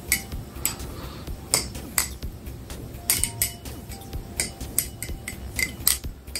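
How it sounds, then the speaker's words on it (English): A balisong butterfly knife being flipped by hand, giving a steady run of sharp metallic clicks and clacks as the handles swing and latch, close and fairly loud with no talking. "There's a something super, super satisfying about flipping this knife."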